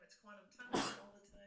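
A single sharp, close sneeze bursting out in the middle of a conversation, with talking just before and after it.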